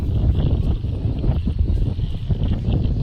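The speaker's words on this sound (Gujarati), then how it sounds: "ઠંડો પવન આવે છે" Cold wind buffeting the microphone on a hilltop by a temple under dark rain clouds, a rough low rumble that swells and gusts unevenly throughout.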